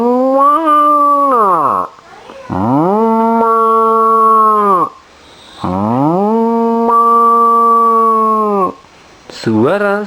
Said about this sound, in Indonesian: suara sapi